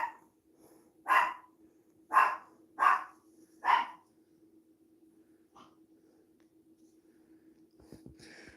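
Dogs bark indoors, four loud separate barks spaced about a second apart, then a few faint distant yips and rustling over a steady low hum.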